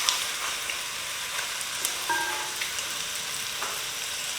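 Meat being stirred in a pot with curry powder for Durban curry, a soft continuous sizzle with faint scraping, quiet and close, no talking.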